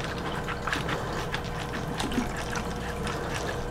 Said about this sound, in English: Okay, so the water's coming out.